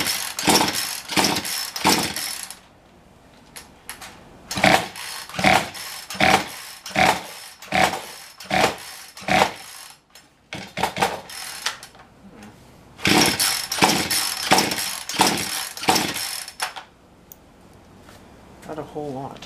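Repeated rope pulls on a Poulan Pro chainsaw with a cold-scored piston, tried without choke: a series of rhythmic ratcheting yanks in bursts that never catch and run, with brief pauses between sets.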